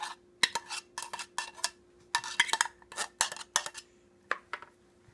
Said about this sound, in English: Scrape what little is left out with our spoon.